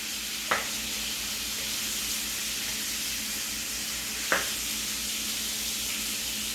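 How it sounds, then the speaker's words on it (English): Shrimp sizzle and fry in a pan on a stovetop for Southern shrimp and grits, a steady close hiss that runs throughout with no talk. Two sharp clicks break through once near the start and once later. "So I'm going to let these cook."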